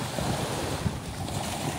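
Sea waves wash against the shore, a broad, rumbling surf roar mixed with heavy wind buffeting the microphone, constant and close.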